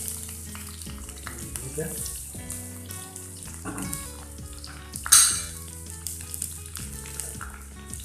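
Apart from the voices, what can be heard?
chopped onions frying in a pan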